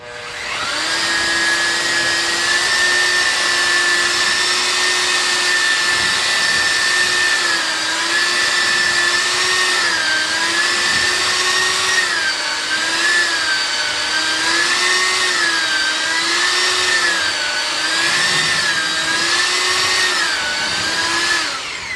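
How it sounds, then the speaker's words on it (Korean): A handheld electric mixer paddle stirs tile adhesive cement with water in a bucket, its steady, loud motor whining continuously, pitch wavering slightly as it churns the thick mix, with no speech over it. "믹서기를 잡고"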